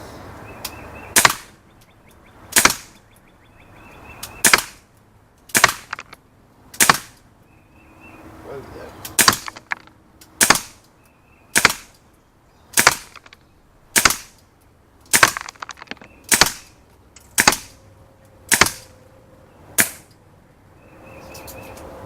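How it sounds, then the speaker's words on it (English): Daisy Powerline 426 CO2 pistol fired repeatedly, about eighteen sharp, loud cracks at a steady pace of roughly one shot per second, each followed by a brief hiss of escaping gas, with no talking. "I'm just going to kind of shoot through one CO2 worth to give you an idea of what you can expect."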